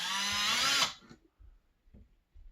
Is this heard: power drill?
yes